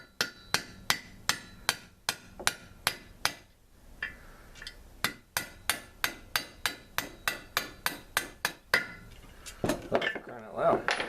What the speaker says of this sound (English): put a little bolt in there.